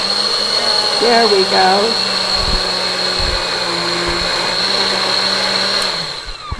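An electric mixer whirs steadily as it blends soy cream cheese for a healthy cheesecake, a close, constant hum that winds down near the end, with a brief spoken remark over it.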